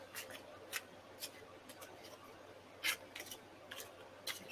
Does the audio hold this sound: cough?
no